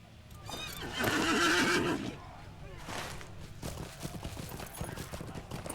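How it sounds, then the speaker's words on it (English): A horse whinnies loudly, then hooves clip-clop in a steady rhythm, with game ambience around them. "I'll get on my horse"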